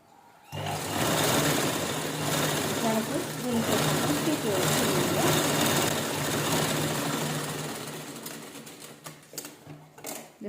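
A sewing machine runs in one long steady burst of close, rapid mechanical stitching on saree-cover fabric, then slows and stops in a few short spurts.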